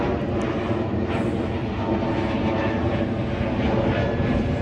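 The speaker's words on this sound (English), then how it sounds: "As I'm looking at another plane." A fixed-wing airplane passes overhead, its engine a steady, loud broadband roar that fills the whole stretch without letting up, with no voices over it.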